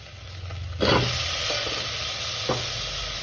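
Whole spices (cardamom pods, cloves, shahjeera, cinnamon stick and a star anise) sizzle steadily in hot oil for vegetable biryani, with a couple of brief stirring scrapes against the pan.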